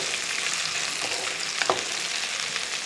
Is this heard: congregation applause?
no